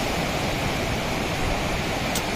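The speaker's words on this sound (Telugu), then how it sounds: "వాటర్ ఫ్లోకి ఆ సౌండ్కే మంచి ఫీల్ వస్తుంది అనమాట ఈ రోడ్డు సైక్లింగ్ చేయడానికి" Mountain water rushing beside a road, a dense, loud, unbroken roar of flowing water filling the whole moment with no voices.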